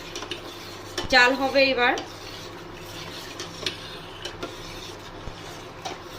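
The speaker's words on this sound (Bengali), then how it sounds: "ওর জন্য আমি একটু নাড়িয়ে দেব, নাহলে নিচে লেগে যেতে পারে" A utensil scrapes and clinks against a pot of cold milk being stirred as it heats, a short burst of busy metallic stirring near the start, then quieter room tone with a few soft knocks; someone speaks briefly.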